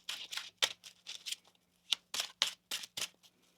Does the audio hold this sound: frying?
no